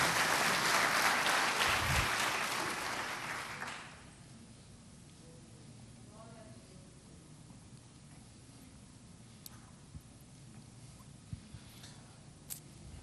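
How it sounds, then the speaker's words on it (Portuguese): A church congregation applauds briefly, a dense wash of clapping that dies away within about four seconds, followed by a quiet room with a few scattered faint knocks and rustles. "Você pode aplaudir o Senhor por estas coisas e por essa convicção."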